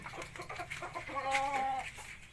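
A bantam rooster crows once, a close, clear drawn-out call rising and holding, preceded by a few soft clucks over quiet outdoor background.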